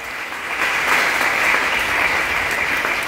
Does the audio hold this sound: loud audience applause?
yes